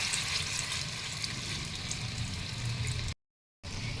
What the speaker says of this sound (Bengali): এবার আমি ছাড়ছি তেলের মধ্যে। হ্যাঁ, তেলটা আমার গরম হয়ে গেছে।